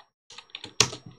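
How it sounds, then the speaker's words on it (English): A computer keyboard being typed on in a short burst of separate clicking keystrokes, close and fairly quiet, with no one talking. "we'll type in Jinja"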